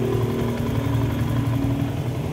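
Close by, a Yamaha Sniper 150 motorcycle idles after troubleshooting of an Error 46 fault, its low, even throb holding steady without dying out.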